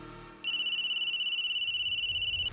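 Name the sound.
telephone ringing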